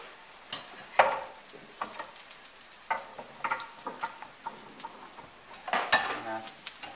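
Croutons frying in fat until golden crackle and sizzle up close in a pan, with irregular bursts of spattering and stirring scrapes, no talking.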